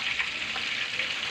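Milkfish soaked in vinegar frying in hot oil in a home kitchen, giving a steady, close, bright sizzle that crackles throughout with no voices.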